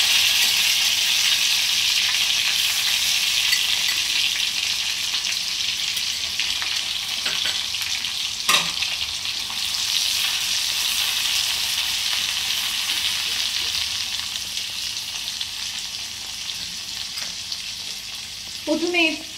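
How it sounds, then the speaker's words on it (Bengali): Onion, two kinds of bell pepper, green capsicum and a ground garlic-chili paste fry in a pan with a continuous, loud sizzle, broken by a sharp utensil clank midway and a rattle of stirring at the end. "সবজিগুলো দিয়ে দেবো, মানে পেঁয়াজ, দু রকম বেল পেপার আর গ্রিন ক্যাপসিকাম।"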